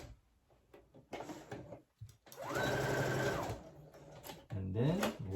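A sewing machine stitches a front pocket on men's pants in short whirring bursts, its motor rising and falling between pauses, with a voice speaking in between runs.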